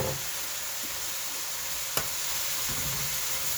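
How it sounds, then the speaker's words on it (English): Onions go into a hot pan with Korean bulgogi and sizzle in a steady, close crackle, broken by a single sharp knock near the middle. "That is when you add your onions to the mix."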